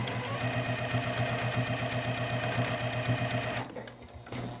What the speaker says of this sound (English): I'm gonna continue sewing here